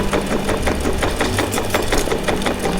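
Embroidery machine stitching out a turtle shell design, a rapid, even mechanical clatter of the needle close by, steady throughout with no voices.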